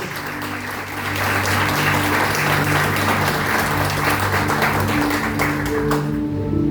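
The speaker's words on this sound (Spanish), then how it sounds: "Den ese fuerte aplauso a Dios." Congregation in a church service applauding loudly, a thick burst of many hands clapping over sustained organ or keyboard chords, swelling after the first second and easing off toward the end.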